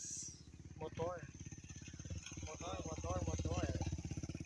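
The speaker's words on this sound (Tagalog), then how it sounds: "Motor. Diba? Nadadaanan na talaga siya guys." A motorcycle rides past on a mountain trail near a summit, its steady engine drone rising as it draws close, heard under a woman's excited chatter throughout.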